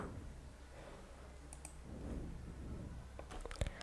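Computer mouse clicks while signing in with Google during a WordPress backup setup, a few faint, sharp clicks clustered near the end over a quiet background hum.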